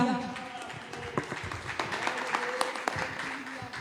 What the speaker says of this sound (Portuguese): As palmas louve ao Senhor.